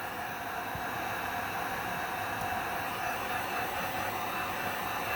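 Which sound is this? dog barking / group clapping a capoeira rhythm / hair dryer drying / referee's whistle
hair dryer drying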